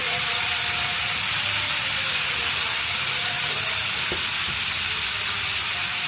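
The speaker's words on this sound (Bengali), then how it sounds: "এদিকে আমি চাল ভেজে রাখছি" Rice fries in a pan with a loud, steady, close hiss and sizzle that runs through the whole clip, with faint scrapes under it.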